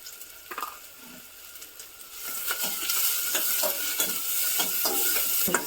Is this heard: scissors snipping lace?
no